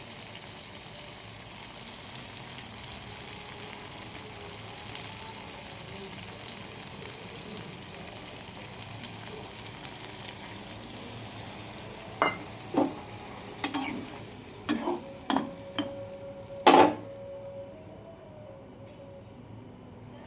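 Curry sizzling steadily in a pan after water is added, a constant frying hiss, with a few sharp scrapes and clinks of stirring toward the end, close by, no talking.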